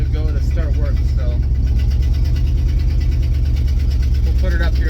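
Old 1965 International truck engine running with a loud, steady low rumble that stays constant throughout, while someone talks over it nearby.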